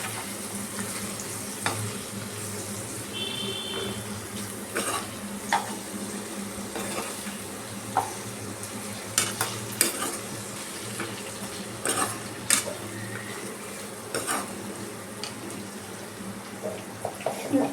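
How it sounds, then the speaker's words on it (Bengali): Potatoes frying with turmeric, cumin and amchur powder stirred in, a steady close sizzle with repeated sharp scrapes and taps of a spoon against the pan, and someone speaking briefly. "আমি এই জন্য একবারে দিয়ে এটা নাড়িয়ে নিচ্ছি"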